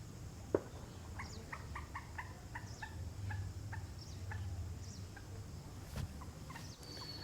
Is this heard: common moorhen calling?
yes